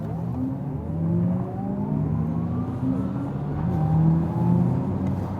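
A 2021 Audi e-tron GT electric car launches hard from standstill in dynamic mode, its motor whine climbing steadily in pitch under a broad rush of road and wind noise, close and sustained.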